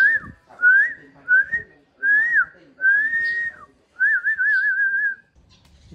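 A person whistles alone, close and clear: a series of short rising and falling phrases with brief pauses between them, ending in a longer warbling trill.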